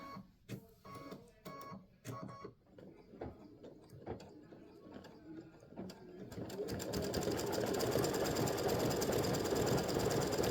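Home sewing machine stitching through fabric, first in short stop-start bursts of mechanical clatter, then running steadily and loudly at close range for the last few seconds, with no voices.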